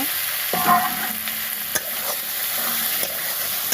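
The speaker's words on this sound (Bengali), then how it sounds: "তো মশলাটা কষানো হচ্ছে" Spice paste being stir-fried (koshano) in a pan for a Bengali curry: a steady, close sizzle with repeated scraping strokes of the spatula and a few sharper knocks against the pan.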